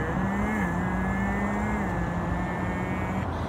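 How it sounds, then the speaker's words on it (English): A 2019 Nissan Maxima's automatic transmission shifts gears while accelerating: a steady engine drone whose pitch steps down a couple of times, heard from inside the car with no talk. "when you're driving a car and you start to speed up and then you hear that"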